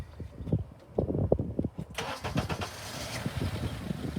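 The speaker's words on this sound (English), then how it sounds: "So basically I'm going to start the scope and start the car." A Honda car's engine cranks and catches about two seconds in, after some quieter clicks and handling noises, then settles into a steady close idle for the rest of the clip.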